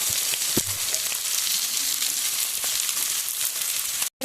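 Curry sautéing in a wok just after salt goes in, a steady close sizzle of frying with occasional stirring scrapes, the hiss cutting out briefly near the end.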